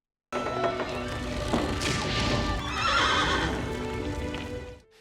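A horse whinnies loudly and repeatedly amid the roar of a barn fire, with crashing and thudding noise throughout and no talking.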